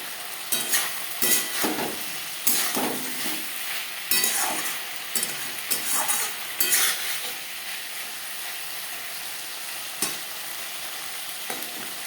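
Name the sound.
stirring fish and vegetables frying in a pan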